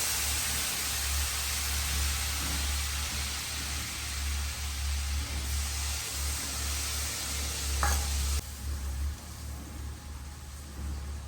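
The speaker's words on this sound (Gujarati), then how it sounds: "શાકનો વઘાર લાગી ગયો તો જો" Hot oil tempering for a boiled potato curry with fenugreek seeds sizzles in a continuous close hiss, with a brief metallic clink partway through and no talking.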